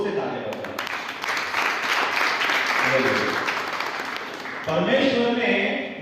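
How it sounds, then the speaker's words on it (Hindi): An audience at a meeting in Panvel bursts into loud applause, a dense sustained clatter with a voice speaking over it and a fresh surge of clapping near the end. "इसके लिए एक बार जोर से ताली बजाओ।"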